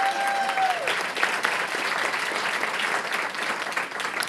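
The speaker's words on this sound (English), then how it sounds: "So let's give her a round of applause." Applause from the audience at a school board meeting, moderate and steady for a few seconds, with a brief tone at the start.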